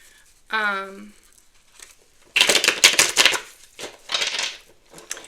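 A brief harmonic vocal sound, then a burst of crisp papery flicking and riffling as tarot cards are shuffled, repeated in shorter bursts afterward.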